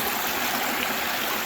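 A creek on an Ozark Highlands hiking trail rushes and gurgles close by in a brief, steady, loud wash of flowing water.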